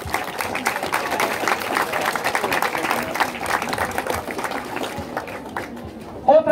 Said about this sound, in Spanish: un aplauso para todos sus maestros y maestras que les van a atender este año 2024